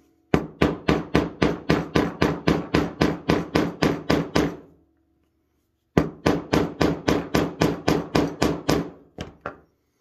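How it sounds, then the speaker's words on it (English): A hammer strikes a rivet on a handmade leather knife sheath in two bursts of about a dozen loud, evenly spaced blows each, separated by a short pause, ending with a few lighter taps. "as you hammer this, you want to kind of spin it so it gets even pressure all the way around that."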